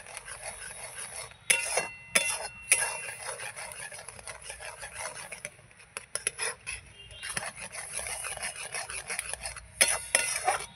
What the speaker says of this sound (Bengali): এই যে দুধটা আমার দিয়ে আমি কিন্তু এইভাবে নাড়াতে থাকবো